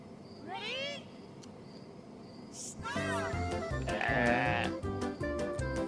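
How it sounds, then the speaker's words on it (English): Sheep bleating from a played sheep video, a wavering bleat early on followed by louder, layered bleats and animal cries mixed with music-like tones, with a voice speaking over parts of it. "She looks up her favorite sheep video."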